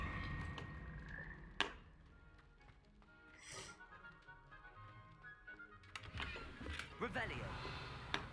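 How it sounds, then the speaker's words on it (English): Frogs croaking in Hogwarts Legacy, a run of low, rough croaks mixed with game ambience and clicks, with a person talking over parts of it. "I don't like the frogs."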